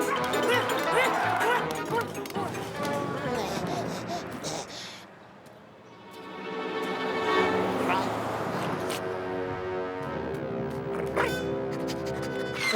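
Cartoon dogs bark and yip in a Garfield animated episode, with rapid overlapping barks among music and sound effects, a brief lull midway, then more barking and clatter.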